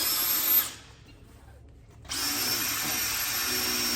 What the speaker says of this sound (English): drill hole.